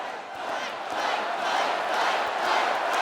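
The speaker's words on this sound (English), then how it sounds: "The crowd chanted, "Fight,"" A large crowd at the Republican convention roars and chants together, a dense, sustained wall of voices that swells steadily in a big hall.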